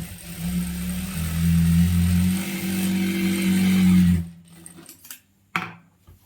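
A sewing machine stitches the hem of a churidar pant, running in a steady humming whir for about four seconds, then stopping, with a few handling clicks and a brief burst afterward.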